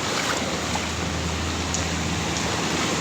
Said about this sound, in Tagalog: tuloy tuloy pa rin ang ulan hindi pa rin natigil